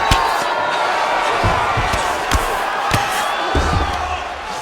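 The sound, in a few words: crowd cheering in EA Sports UFC 5 video game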